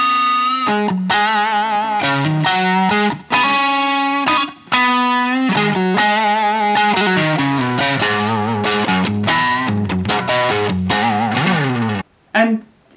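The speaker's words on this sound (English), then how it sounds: "all of the tones out of this pedal that I was getting through my Strat were amazing" A Stratocaster electric guitar plays through a cheap Tube Screamer-style overdrive pedal, with distorted chords and single notes in an uneven rhythm, briefly cutting out near the end.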